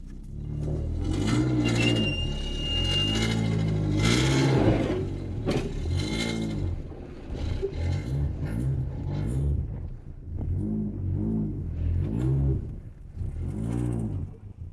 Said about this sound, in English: it revs up quite nicely